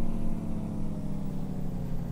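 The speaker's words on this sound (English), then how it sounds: "Here's what the engine brake sounds like." The engine brake of a heavy truck in the driving game American Truck Simulator makes a low, steady, throbbing drone. It sounds close and continuous, with no voices over it.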